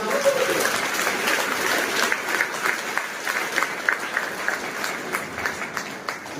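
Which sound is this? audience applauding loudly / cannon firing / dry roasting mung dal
audience applauding loudly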